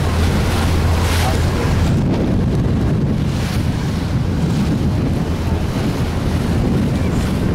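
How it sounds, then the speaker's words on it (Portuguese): Surf at Maragogi beach in Alagoas, Brazil, a reef-lined shore, rolls in a continuous loud roar, heavily buffeted by wind blasting the microphone throughout. "praia de Maracujá, em Alagoas."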